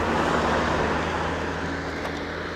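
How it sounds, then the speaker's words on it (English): A car passes on a road at night, a continuous loud, close rush of tyre and engine noise through the whole stretch with no talking. "I'm going to stop for this car to go past."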